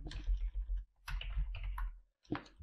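Keys on a computer keyboard being typed in short bursts of quick clicks while entering a line of Python code, close and fairly loud, with brief pauses between runs.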